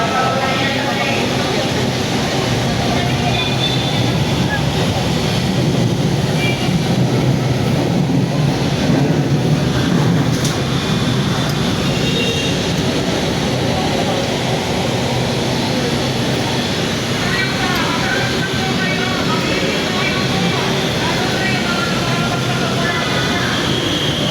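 A steady, loud rumble of a light rail train passing close by, continuous broadband roar with faint voices underneath.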